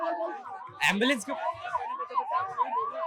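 Ambulance siren wailing at a street protest, a steady rising and falling tone heard continuously under a voice and crowd noise.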